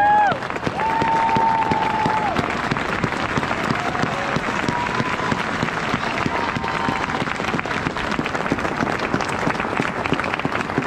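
A large crowd at a street demonstration in Bern, Switzerland against the Russian invasion of Ukraine claps and cheers continuously, with whistles and raised voices at the start over a dense, unbroken roar of applause.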